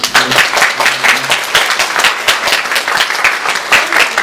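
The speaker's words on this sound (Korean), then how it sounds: "박수로 환영하겠습니다." A church congregation at a Sunday worship service claps loudly to welcome a visiting father from overseas, a brisk, continuous round of applause filling the room.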